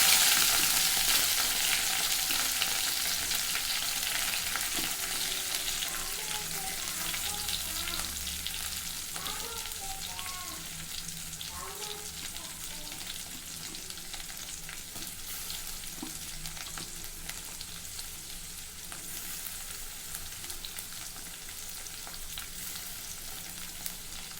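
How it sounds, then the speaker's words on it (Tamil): Onions sautéing in a pan for vazhaipoo kulambu, a Tamil banana-flower curry, give a steady, close sizzle and crackle of frying with occasional stirring, running continuously with no talk. "வெங்காயம் நல்லா வதங்கிடுச்சு."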